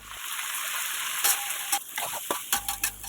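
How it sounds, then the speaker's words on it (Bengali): Beef and vegetables fry in a pan for a beef chili onion dish, a steady close sizzle broken by a few scraping stirs. "এবং সব বিফগুলো এর মধ্যে দিয়ে একটু ভেজে নিব এবং সব সবজিগুলো এর মধ্যে দিয়ে দিব"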